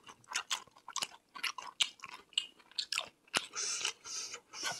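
Close, crunchy chewing and biting while eating saury kimchi stew with rice, irregular wet bites and munches up close with no talking.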